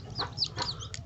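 Domestic hens with newly hatched chicks give a few soft clucks, short and close, with small pauses between them.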